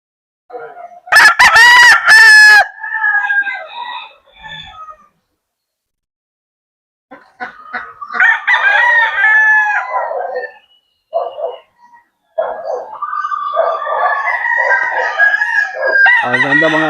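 Roosters crow loudly and up close in a Laguna backyard breeding yard with ducks nearby, a series of strong calls with gaps of silence and clucking, plus brief talk.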